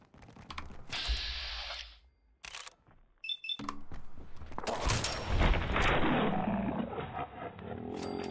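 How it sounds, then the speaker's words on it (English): Pistol fire from a companion's .45 handgun during a Fallout 4 firefight, sharp reports and clatter mixed with other game action and noise, fairly loud and dense through the latter half. "Good shooting, Nick."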